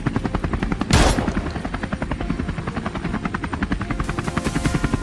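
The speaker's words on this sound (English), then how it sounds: "The pilot swiftly lowers the altitude, bringing the helicopter in close" A helicopter flying low during a wild boar hunt thunders close overhead, its rotor blades chopping in a loud, rapid, steady rhythm that swells briefly as it passes.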